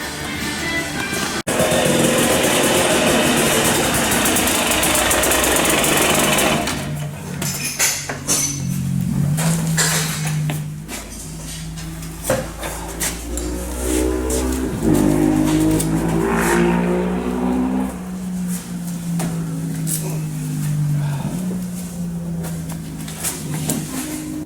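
A motocross motorcycle being ridden, its engine revving loudly and rising and falling in pitch through the gears, with a sustained roar that shifts as the rider accelerates and backs off.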